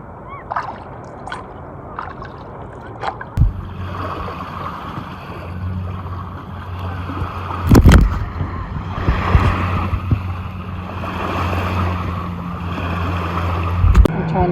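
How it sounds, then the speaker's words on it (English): Jet skis and speedboats on busy open water, a steady engine drone and wash against a windy backdrop, with a few louder bumps and splashes nearby. "There's so many jet skis and speedboats."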